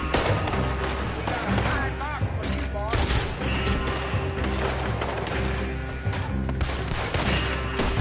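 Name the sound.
gunfire in video game Red Dead Redemption 2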